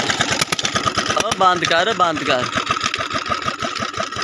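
A diesel Peter engine drives a water pump with a steady, rapid thumping beat, close and loud throughout, while people talk over it.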